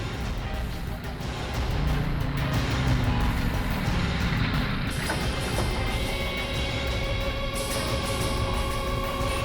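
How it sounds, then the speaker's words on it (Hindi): Heavy road traffic on a busy street: a dense, continuous roar of cars and trucks passing close by, loud and steady throughout with no talk. "सेठ जी, यहाँ ट्रैफिक बहुत है।"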